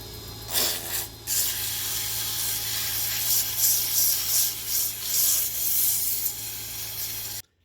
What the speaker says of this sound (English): We're now going to hit it with 120 grit sandpaper.